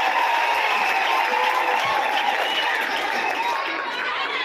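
A church congregation at a service in Imara Daima applauds steadily in honour of Martha Karua, a dense, even patter of many hands filling the room with some faint crowd murmur, the clapping slowly thinning toward the end.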